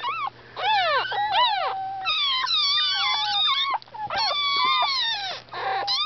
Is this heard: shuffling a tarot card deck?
no